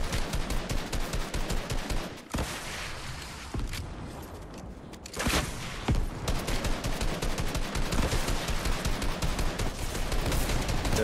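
Rocket launcher and gunfire in the video game Fortnite, with rapid loud bursts of shots and blasts crowding together, a short lull in the middle, then more heavy repeated firing.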